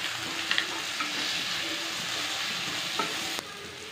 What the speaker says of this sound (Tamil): வெங்காயம் ஓரளவு வதங்கி வந்துருச்சுங்க இந்த டைமில் வந்து ஒரு சின்ன தக்காளி கட் பண்ணி வச்சுருக்கேன் அதையும் சேர்த்துக்கலாம்